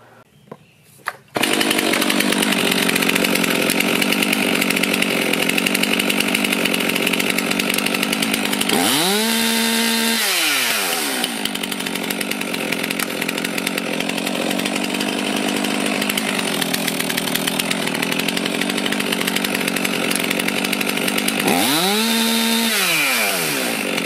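Chainsaw running steadily through a pre-use run check before heading to the field, loud and continuous after a brief start, with two rising-and-falling revs where the throttle is opened up and eased back.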